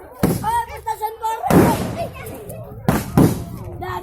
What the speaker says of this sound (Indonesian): Petasan dulu.